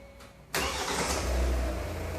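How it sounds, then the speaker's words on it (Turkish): A 2021 Hyundai Tucson's engine cranks and catches with a sudden burst, then settles into a steady, close idle that hums on afterward, with no one speaking. "Çalıştırın arabayı."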